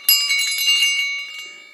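A small 50 mm tin bell rings with a bright, high-pitched jingle, a quick cluster of strikes at close range, then a clear tone fading over about a second and a half.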